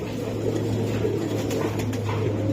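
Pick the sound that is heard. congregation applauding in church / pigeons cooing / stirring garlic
pigeons cooing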